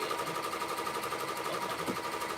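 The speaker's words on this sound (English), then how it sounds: "you can still kind of see the embroidery machine and you can see me sewing" An embroidery machine sews with a steady, fast, whirring mechanical hum that runs without a break, close and moderately loud.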